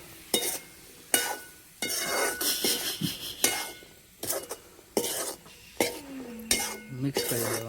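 Vegetable curry being stirred in a pot on a stove: a spoon scrapes and clinks against the pot in a series of sharp, close strokes over a faint sizzle.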